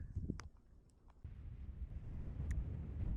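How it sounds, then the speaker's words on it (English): Strong wind buffets the microphone on a Munro summit in the Cairngorms, a steady low roar that swells and gusts with a few faint clicks, no talking. "You can probably hear the wind."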